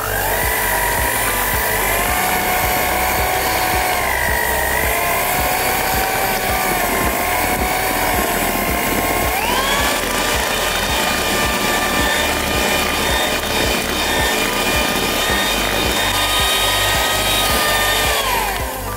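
An electric hand mixer whirs steadily at close range while beating chocolate bread dough for a sweet bread loaf, its motor tone stepping up partway through and staying loud and continuous throughout, with no talking.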